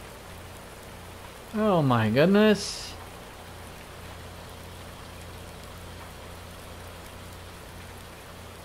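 Steady rain falls in Farming Simulator 19 on PS4, on the Felsbrunn map in a snowy spring, as an even hiss that runs through the whole stretch, with a brief exclamation from a man midway.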